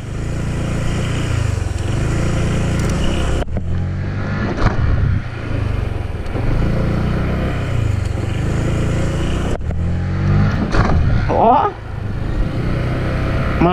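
Honda PCX scooter with a modified clutch, its engine droning and revving hard while riding, loud and close with wind rush, rising and falling in pitch, under occasional talk.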